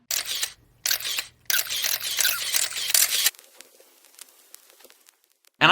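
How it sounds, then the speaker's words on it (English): 35mm still camera firing multiple shots with an auto winder, a quick run of sharp shutter clicks and whirring advances, then quieter scattered clicks and a final burst, close and dry. "35mm still camera shooting multiple shots with auto winder"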